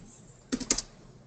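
A computer keyboard gives a quick cluster of four or five close, crisp key clicks in the middle of an otherwise quiet moment.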